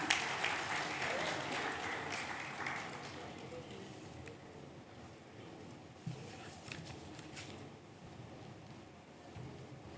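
An audience at a literature festival session applauds and cheers for students in a burst of loud clapping that gradually fades to scattered claps, followed by voices talking.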